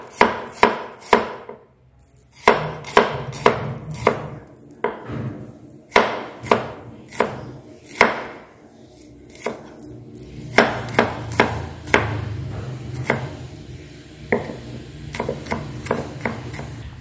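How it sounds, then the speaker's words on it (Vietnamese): Knife mincing scallions on a cutting board, sharp crisp taps in quick irregular bursts with short pauses between, close and clear with no talk. "Cái phần hành thơm này các bạn sẽ băm nhỏ cho mình nhé."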